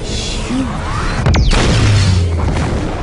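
Explosion in the video game Saints Row 4, a loud boom with a whooshing sweep and crashing debris over dense, continuous game noise and a low rumble.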